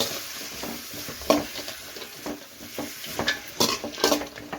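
Stir-frying long-cut capsicum strips and cabbage in a hot pan for Chinese noodles, with a steady sizzle broken by irregular scraping and stirring clatter, close and fairly quiet.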